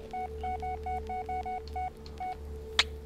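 A phone keypad dialing in the Blair Witch video game: a quick series of about ten steady electronic tone beeps in an uneven rhythm over low background hum, ending with a brief sharp click, with no talking.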